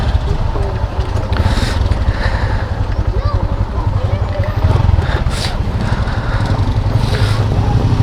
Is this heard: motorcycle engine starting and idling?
yes